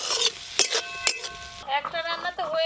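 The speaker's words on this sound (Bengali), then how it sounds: "অল্প একটু জল দিয়ে কষিয়ে নেব" Spices such as cumin paste, chopped tomato, turmeric and chilli powder being stirred and sautéed in a pan with a little water, sharp metallic scrapes and clinks of a spatula over a soft sizzle, with ringing tones from the pan.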